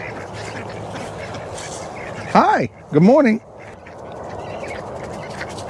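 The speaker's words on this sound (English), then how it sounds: "So we got 13 ducks and 1 goose." Farm ducks let out two loud, close quacking bursts in quick succession, with someone speaking briefly and outdoor background noise around them.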